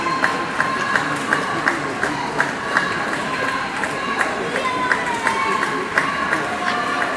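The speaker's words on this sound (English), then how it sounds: "And Nompumelelo gets home to the biggest cheer of the day." Crowd at a swimming gala at Wahoo Aquatics Centre, a steady mass of cheering and shouting with rhythmic clapping, under a commentator's voice throughout.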